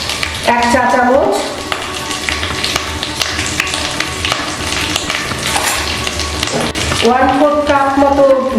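Water poured into sizzling spices (ground cumin, turmeric and Kashmiri chilli powder) frying in a pan for a Bengali banana blossom and prawn dish, a loud steady hiss and stir under music with a voice in places.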